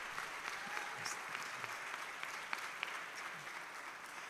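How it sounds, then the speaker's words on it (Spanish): Congregation applauding the Lord at a church service, a dense, fairly distant crowd clap that stays even throughout, with scattered sharper individual claps standing out. "Give an applause to the Lord."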